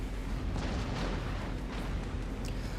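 Torpedo hits in the naval battle game World of Warships land as dense, rumbling booms layered over continuous battle noise, heavy and sustained rather than single sharp blasts.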